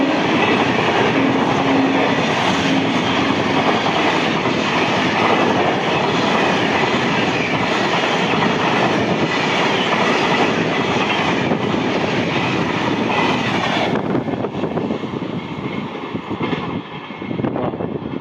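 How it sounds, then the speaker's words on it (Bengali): Radhikapur–Howrah Kulik Express hauled by a Howrah WAP-7 electric locomotive passing through Pandua station at speed, a loud continuous roar of wheels and coaches that tails off near the end. "এবারে আপনাদেরকে দেখাচ্ছি রাধিকাপুর হাওড়া কুলিক এক্সপ্রেস।"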